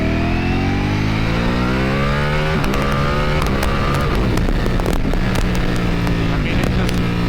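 Ducati Panigale motorcycle with a quick shifter accelerating hard, engine note climbing through rising revs with rapid clipped upshifts and crackles in the second half, loud and close throughout.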